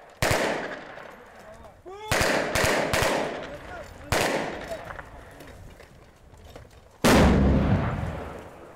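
An explosive charge blasts a suspect from cover in a building during a Sevastopol SOBR special police training assault. Several sharp, loud bangs come in quick clusters, ending in one heavy, booming blast.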